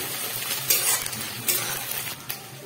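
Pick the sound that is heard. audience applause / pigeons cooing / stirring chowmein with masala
stirring chowmein with masala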